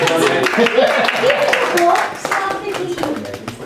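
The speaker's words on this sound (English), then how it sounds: "give Nick a big round of applause" An audience claps for Nick, a moderately close burst of hands clapping mixed with voices and someone talking over it, thinning out toward the end.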